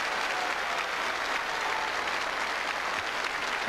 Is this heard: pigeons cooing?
no